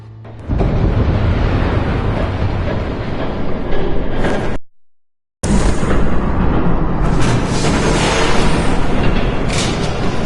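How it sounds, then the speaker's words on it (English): A train roars past in a Batman video game on PS4, a loud, sustained rumbling rush that cuts out for a moment midway before resuming at full strength, with no talking over it. "There's a train coming."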